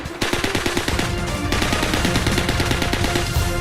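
An Uzi submachine gun fires rapid full-auto bursts, a fast rattling stream of sharp shots broken by a brief pause, loud and close.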